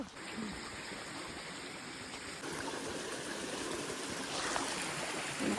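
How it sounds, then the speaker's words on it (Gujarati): A forest stream in the Gir jungle, swollen after unseasonal rain, rushes in a steady, even wash of water with no clear breaks, moderately near and filling the scene on its own. "જો ગાઈસ કેવા જંગલમાં ઝરણા છે"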